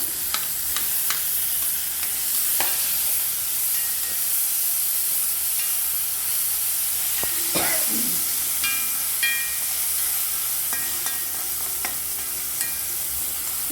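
Tomatoes sizzle loudly in a hot pan as a spoon scrapes and stirs through them, with occasional clicks and a steady hiss throughout.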